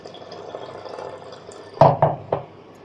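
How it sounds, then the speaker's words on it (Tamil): Rinsed rice water poured into a cooking pot of boiling water, a soft trickle followed by three distinct splashy plops close by, with no talking. "நான் இப்போ களைஞ்சி இதில் ஊற்றுறேன்."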